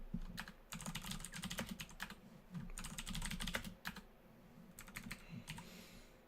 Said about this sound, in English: That's me typing enchant, by the way.